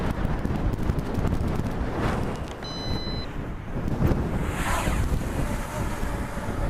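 Strong wind buffets the microphone near a flying SG906 Beast Pro or Holy Stone HS720E drone, a loud continuous roar with gusts and faint whining motor tones.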